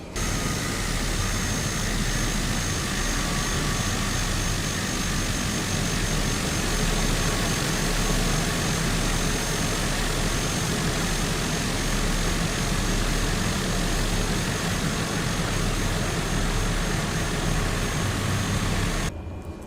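A Cessna Caravan taxis in Microsoft Flight Simulator, its turboprop engine giving a steady, loud drone with a low rumble that holds unbroken for the whole stretch, with no voices over it.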